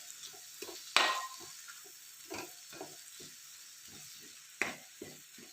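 A spoon stirring dried prawn and raw mango pickle in a pan: quiet, irregular scraping and clinks, with a few sharper knocks against the metal, close and alone.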